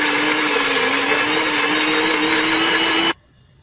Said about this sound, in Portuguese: Vamos colocar tudo no liquidificador e bater.